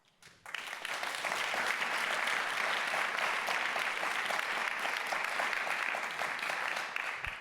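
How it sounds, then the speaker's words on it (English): An audience at an awards ceremony at the Global Solutions Summit 2024 bursts into sustained applause, loud, dense clapping that rises quickly and holds steady for several seconds. "Let's give another round of applause to four here, plus Aneta."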